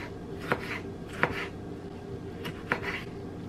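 A kitchen knife chops a fresh tomato on a cutting board, giving a few sparse, distinct thuds spaced about a second apart, close and moderately loud over a steady low background hum.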